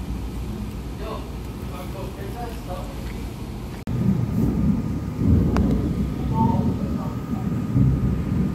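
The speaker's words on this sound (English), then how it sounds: "it's raining real bad over here" Heavy rain falls steadily outside a Burger King, a dense continuous wash that grows louder partway through, with a low rumble underneath.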